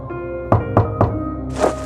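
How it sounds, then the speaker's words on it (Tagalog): Three firm knocks land on a door in quick succession, dull wooden thuds heard close by over a low sustained musical backdrop, followed by a brief burst of noise. "3 katok."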